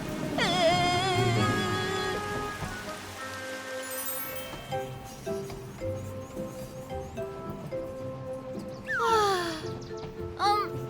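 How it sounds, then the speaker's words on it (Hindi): Rain beginning to fall in a Hindi-dubbed Titipo train cartoon, a steady hiss of rainfall with music tones and cartoon sound effects layered over it. "अरे, बारिश होने लगी।"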